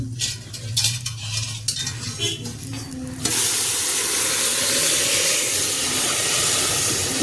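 Warm water is poured into a hot cooking pan, setting off a sudden loud, steady sizzle and hiss that fills the rest of the moment after some quieter stirring and clinking of utensils.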